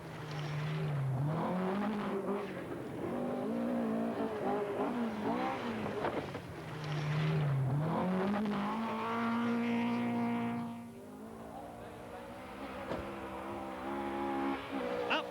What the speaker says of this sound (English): just watch the way he handles the Vauxhall